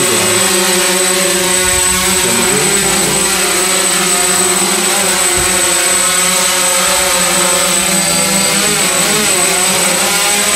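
A DJI F550 hexacopter drone's motors run at a steady high-pitched whine with pulsing harmonic tones that shift slightly in pitch, loud and close throughout.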